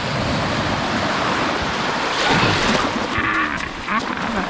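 Atlantic Ocean waves wash onto the shore in a steady, broad surf roar with a swelling surge midway, close and continuous, with wind in the background.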